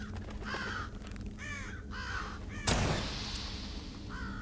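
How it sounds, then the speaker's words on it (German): Crows cawing in the video game Thief, with a series of harsh, repeated caws spaced across the clip and a sharp noisy burst partway through. "Vögel werden wir jetzt auch erstmal ausschalten."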